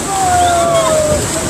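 River water splashes and sloshes as people jump in at dawn, a broad steady wash of water close by, with voices and whistling tones over it.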